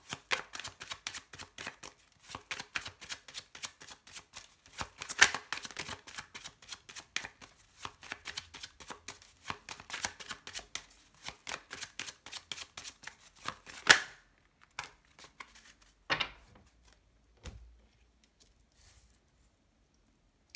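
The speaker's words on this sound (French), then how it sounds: "on va faire une petite coupe avec mon petit Lenormand" Rapid crisp riffling of a Lenormand deck, shuffled in repeated bursts with soft slaps, then a few separate cuts and card flips before it falls quiet.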